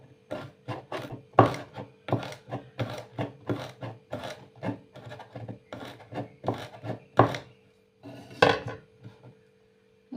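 Vegetables being sliced with a blade on a board in a home kitchen, a rapid series of sharp, dry chopping taps in uneven bursts, close and clear, with brief pauses.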